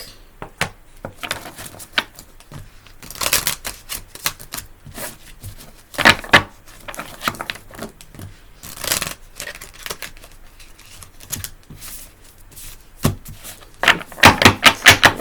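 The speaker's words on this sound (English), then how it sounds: "Shuffling, I know." Repeated crisp riffling and slapping of a stiff Work Your Light oracle card deck being shuffled, in irregular bursts with short pauses between, close up and fairly loud, no talking.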